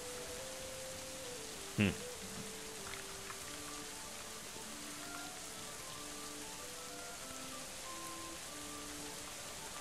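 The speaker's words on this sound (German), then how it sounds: "Regnet schon wieder." Rain falls steadily in the medieval colony-building game Going Medieval, a soft, continuous patter under quiet game music, with a brief murmur from a voice.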